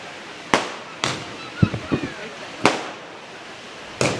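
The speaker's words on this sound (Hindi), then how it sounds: "ये आतिशबाजी अगर बंद हो सकती है तो बंद कर दो" Fireworks go off during a public speech: four sharp, loud cracks spaced irregularly, with a short cluster of smaller pops in between, each echoing briefly.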